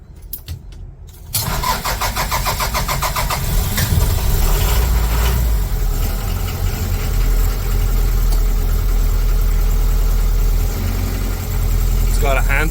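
A 1979 Toyota BJ40 diesel cranks briefly, catches and settles into a loud, steady, rough idle, clattering close by for the rest of the stretch.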